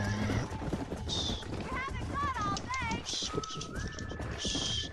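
A horse in the game Red Dead Redemption neighs with a loud, wavering whinny, mixed with hoofbeats, in-game sounds and someone talking over it.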